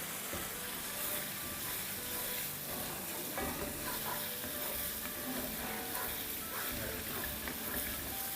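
Green chilli pieces hit a hot pot during a one-pot chickpea cooking session, giving a steady, dense sizzle with stirring scrapes throughout; a voice speaks lightly over the frying.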